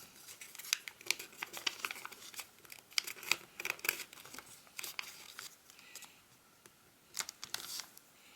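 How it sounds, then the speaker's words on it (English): Crisp crinkles, taps and sharp creasing snaps as origami paper edges are folded toward a center crease, irregular close handling sounds over a quiet background. "We will fold the top and bottom edge towards the center crease."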